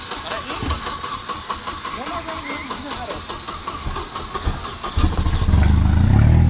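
Car engine in a garage cranks and catches near the end, rising into a loud, rough rev after a stretch of quieter low rumble and background noise.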